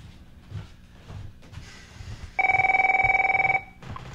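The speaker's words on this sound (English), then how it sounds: "Right now, we got a phone call." An incoming call rings on a telephone during a live call-in broadcast, a steady, warbling ring lasting about a second over a quiet background.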